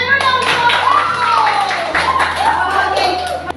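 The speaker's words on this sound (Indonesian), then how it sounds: "Tepuk tangan dulu untuk" A classroom group claps hands in a fairly loud, scattered round, with children's voices and chatter mixed in throughout.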